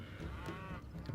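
Cattle at a dairy farm in the Stronghold Crusader strategy game give a single low, faint moo that lasts about a second.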